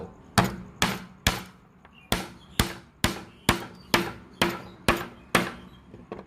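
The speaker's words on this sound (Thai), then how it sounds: "เสร็จแล้วเราก็นำมาตอก ผมจะตอกตรงริมกันก่อนนะครับ" A steel nail is hammered into oil-soaked wood near its edge with about thirteen sharp, evenly spaced hammer blows. Each strike is close and loud and rings out briefly.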